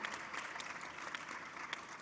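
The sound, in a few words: audience applause at women's summit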